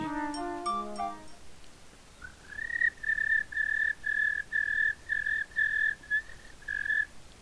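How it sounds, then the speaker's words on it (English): A cricket chirps in a steady run of short, evenly spaced pulses that is clear and fairly close, set against a quiet background. A brief musical flourish plays just before it. "a cricket named Stan comes to greet him"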